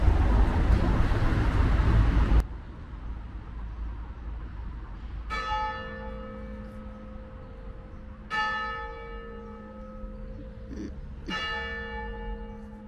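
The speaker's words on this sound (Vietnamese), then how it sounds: "Chuông nhà thờ." Church bells ring outdoors in a garden, with three distinct resonant strikes spaced a few seconds apart after a burst of wind or handling noise at the start, each tone lingering and fading.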